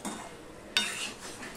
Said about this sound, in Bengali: এবার আমি দিয়ে দিচ্ছি ভেজে রাখা পটলগুলো, দিয়ে সম্পূর্ণটা আমি মিশিয়ে নিয়ে আর একটু কষিয়ে নেব।